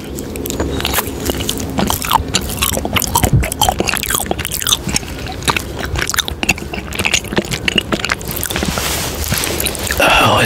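Chewy taro mochi eaten up close, with steady, dense biting and sticky chewing sounds running continuously, occasional crunchy crackles, and loud, intimate mouth noises throughout.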